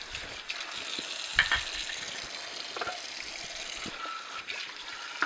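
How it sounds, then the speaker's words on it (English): Omega VRT 352F juicer parts rinsed under running tap water, a steady close hiss of flowing water with a few brief splashes and knocks as the pieces are handled. "I'll just rinse out each of these parts."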